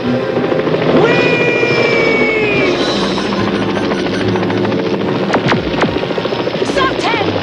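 An aircraft flies in an animated action cartoon, its loud, continuous helicopter-like rotor drone carrying whistling engine tones, with brief voices and sharp effects breaking in near the end.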